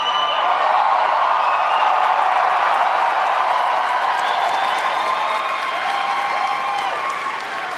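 A live show crowd applauds in a steady, even wash of clapping that holds for several seconds without swelling into cheers, then eases slightly toward the end.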